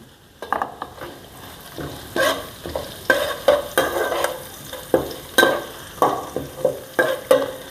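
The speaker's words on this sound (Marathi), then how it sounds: "लसूण टाकून घेऊया थोडासा लसूण घेतला होता आपण आणि हलवून घेऊया व्यवस्थित" Garlic is stirred into frying onion chutney, with a soft sizzle under a rhythmic series of clattering spoon scrapes against the pan, close and loud, no voices.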